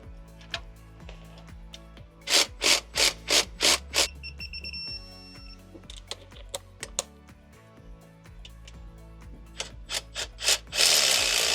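On a Land Rover Discovery 4 engine during a timing gear overhaul, a timing chain is fitted onto the crank sprocket. Sharp metallic clicks and ratcheting rattles come close up in bursts, with pauses and faint clinks between them.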